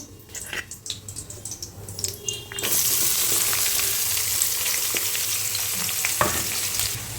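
Sliced big onions hit hot oil with cinnamon and spices in a pan, bursting into a loud, steady sizzle after a few seconds of quieter clinking and stirring, with occasional scrapes of the spatula.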